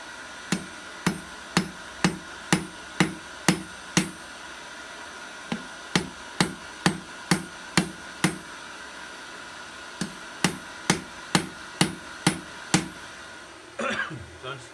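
Hammer blows on hot steel, rounding out the reins of beginner wolf jaw tongs at a blacksmith's anvil: steady ringing strikes in quick bursts, each with a short pause between runs, loud and close.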